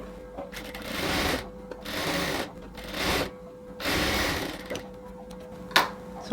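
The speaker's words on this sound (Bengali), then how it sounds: "আমরা শোল্ডারটাকে ডাবল সেলাই দিয়ে অ্যাটাচ করে নিলাম" A sewing machine double-stitches the shoulder seam of a garment, running in about five steady bursts of close mechanical whirring separated by short pauses, with a sharp click near the end.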